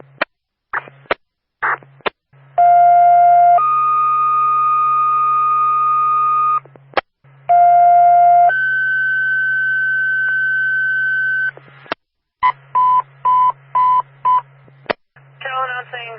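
Loud sustained two-tone fire dispatch alert tones for a second-alarm fire in Madison, New Hampshire sound in sequence, each held for seconds, framed by radio clicks and bursts of short beeping tones over a low hum.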